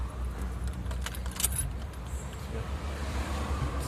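Keys jangle in a few brief metallic bursts near the middle of the clip, set against a steady low hum from a car during dashboard removal on a Chevrolet Meriva, with no talk.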